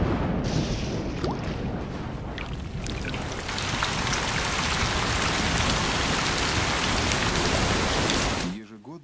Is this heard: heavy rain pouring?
yes